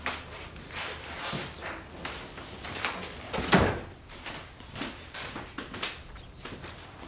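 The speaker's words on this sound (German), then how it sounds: "Machen Sie die Tür zu." A door is pushed shut in an office, a set of soft knocks and thuds with one firmer bump near the middle, close by and otherwise quiet with no speech.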